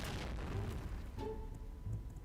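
A video-game explosion booms in a broad, sustained rumble with a burst near the start, loud and dense, then a rolling tail of debris-like noise.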